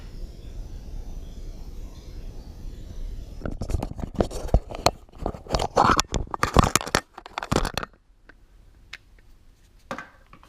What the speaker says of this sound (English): I love the sound of chewing in the morning.